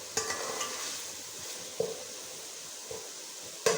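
Onions browning in a pan in a small hostel kitchen for Lahori kali mirch murgh chanay, a steady sizzle with a few sharp stirring scrapes and clinks, close and without talk.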